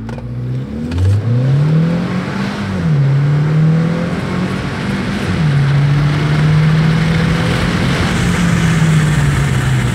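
A 2015 Hyundai Sonata Eco Turbo fitted with a cone air filter accelerates hard from a stop to 60 mph on a flat road, the engine note climbing, dropping at gear shifts and climbing again, loud and close from inside the car.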